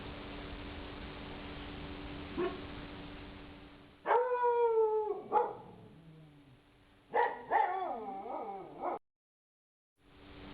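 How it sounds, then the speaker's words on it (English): Two dogs indoors at a home painting session howl and bark in bursts, with rising and falling wails and yelping barks close to the microphone, separated by short pauses, ending in a brief silence. "Now the dogs have quietened down a bit"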